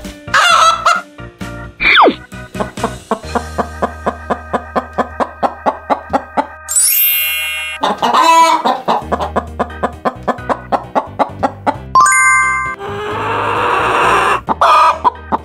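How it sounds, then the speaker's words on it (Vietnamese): A hen clucks in a long series of short, regular pulses, with brighter squawks and other fowl calls breaking in, loud and close, with no talking. "Gà mái. Hen. Gà mái."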